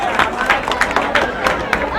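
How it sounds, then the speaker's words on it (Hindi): An audience on stage applauds to welcome Sachin Sawariya, with loud, close rhythmic clapping that rises in regular bursts over a murmuring crowd. "जोरदार तालियों से एक बार स्वागत कीजिए।"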